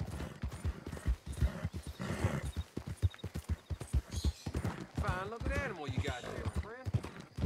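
An Arabian horse in Red Dead Redemption 2 clip-clops at a steady trot with close, rhythmic hooves, then gives a loud rising whinny partway through, with someone talking over parts of it.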